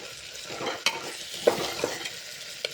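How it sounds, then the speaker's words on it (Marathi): Hot water goes into a pan of sizzling spiced rice, giving a brief loud hissing rush with a few sharp clinks of a utensil, close and without voices. "आता गरम पाणी ओतून घेते"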